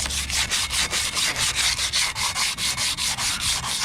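Sandpaper scrubbing rust off brake rotors by hand, a loud, close, steady rasping in quick regular back-and-forth strokes, about four per second, with no voices.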